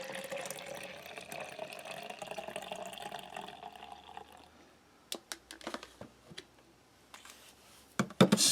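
Liquid runs steadily into a bottle for several seconds, filling it to the top, followed by scattered clicks, taps and small plastic handling knocks near the end.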